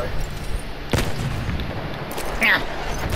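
A grenade explosion in a video game, a single sharp loud burst near the start followed by rumbling decay, with voices talking and shouting over the game noise.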